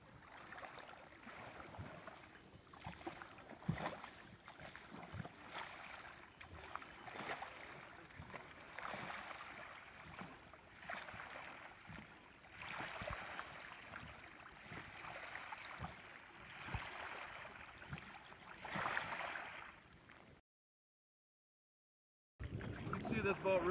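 Water splashes and oar strokes recur in a steady rhythm under wind noise, a StealthCraft Hooligan XL drift boat being back-rowed through moving water, with a short gap near the end.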